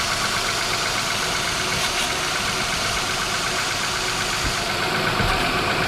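A Honda Odyssey engine idles with a power steering hose leak while the steering wheel is turned side to side, producing a steady, close rumbling drone with a faint knocking texture and no talk.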